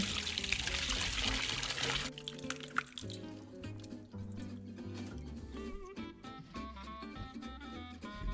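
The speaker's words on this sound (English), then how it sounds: "we're just gonna go ahead and pour off all of this whey" Whey pours through a strainer in a heavy gush for a couple of seconds while making cottage cheese from clabbered milk, then slows to trickling and dripping, close and clear with no voices.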